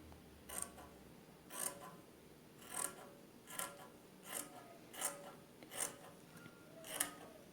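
Scissors snip through fabric for a full gode skirt waistband in a steady series of about eight crisp, evenly spaced cuts, fairly close and quiet.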